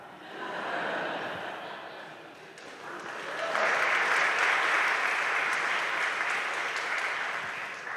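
Audience applause at a college convocation after a mathematical card trick, starting moderately, dipping briefly, then swelling into fuller, sustained clapping from a large hall crowd with a few light chuckles.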